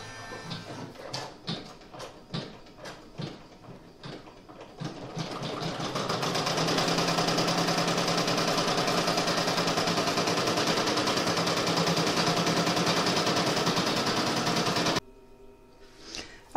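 An embroidery machine stitches a purse lining in the hoop: first a run of separate sharp mechanical clicks, then a loud, steady, rapid needle chatter holding for about nine seconds before it stops abruptly, with a brief click at the end.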